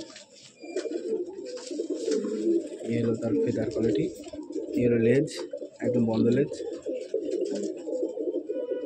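Andhra pigeons coo softly in a loft, low rolling calls repeating near the microphone while someone talks over them almost continuously.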